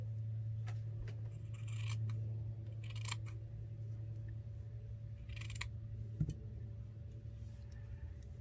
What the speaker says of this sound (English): And then just go ahead and cut this off nicely.